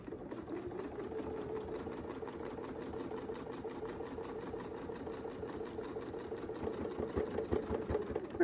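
Sewing machine quilting along a ruler template, a fast, even needle chatter with an engine-like hum running steadily for over eight seconds, close and fairly loud, with no talking.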